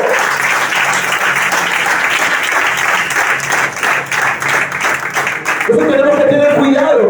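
Sustained applause from a large church congregation fills the room, with a preacher speaking over it before the clapping gives way near the end.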